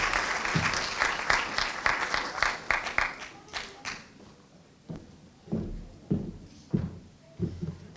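An audience at a 2017 co-op ceremony breaks into loud, dense applause that fades after a few seconds, followed by scattered soft thumps and knocks in the room.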